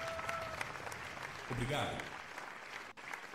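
Applause from a crowd of executives in a Spider-Man PS1 video game cutscene, a steady clapping wash running throughout beneath a brief spoken line of thanks.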